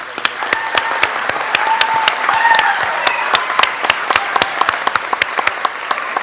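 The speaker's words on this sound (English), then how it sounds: "Can we give them a round of applause?" Sparse applause from an audience at a school district board meeting, individual claps distinct and fairly close, swelling briefly and then thinning out into scattered claps over several seconds.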